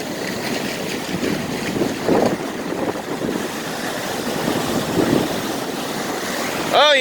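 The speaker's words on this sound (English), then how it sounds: "Oh yeah, there's the waves." Strong surf crashes onto an inlet beach in Florida during dangerous conditions and high wind, a loud continuous roar with heavier wave surges near two and five seconds, wind buffeting the microphone throughout.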